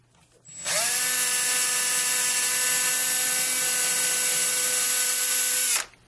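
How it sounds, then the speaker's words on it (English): A power drill spins up and whines steadily at high pitch for about five seconds without pause while drilling a hole in a checkers piece, then winds down abruptly; no voices. "once I drill that hole"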